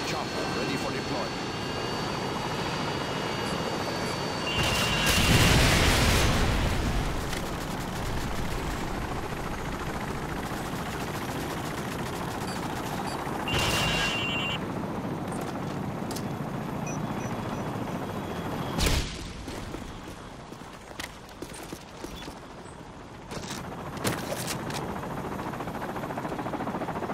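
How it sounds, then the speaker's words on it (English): A helicopter in a video game, a steady rotor and engine drone running throughout with bursts of louder noise, while voiced game announcements sound over it. "Repeat, chopper ready for deployment."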